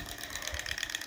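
A small blackened Stirling hot air engine, heated by a burning olive oil flame and turning two wheels, runs with a quiet, rapid, rhythmic mechanical clicking and whirring.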